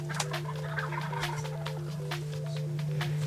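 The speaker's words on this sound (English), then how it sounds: "The turkeys are still up in the trees. They've been gobbling like crazy." Wild turkeys roosting in trees gobble repeatedly during a spring turkey hunt, bursts of rapid rattling calls at a moderate distance over a steady low background hum.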